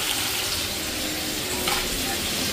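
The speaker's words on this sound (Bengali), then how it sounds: "কষাচ্ছি ভালো করে মাছ আলু" Fish and potatoes sizzle and fry in a pan while being stirred, a steady close crackle with a few scraping touches.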